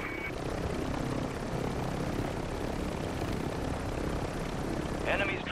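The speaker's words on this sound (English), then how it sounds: "Helicopter!" A Call of Duty helicopter drones steadily throughout, its rotor and engine noise loud and continuous, with game effects blending in near the end.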